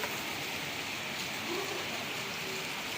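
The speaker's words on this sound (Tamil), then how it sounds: "நல்ல மழை ஒரு பத்து நிமிஷம் அப்படியே மழை பெஞ்சிட்டு சவுண்டு கேட்கும்" Steady heavy rain pours down at night in Velachery, Chennai, a dense, even hiss, with no talk.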